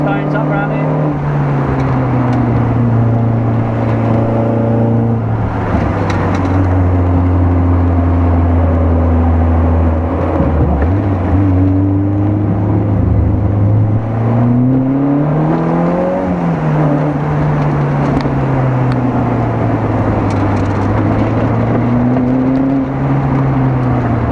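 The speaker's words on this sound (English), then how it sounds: "I've got a new school Maserati behind me" A new Maserati sports car engine rumbles loud and steady nearby, its pitch climbing and dipping through several revs over about 24 seconds, with people talking over it.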